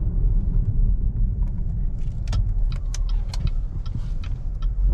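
A car with a worn transmission drives along with a steady low road and engine rumble, close and continuous, with faint rattles above it.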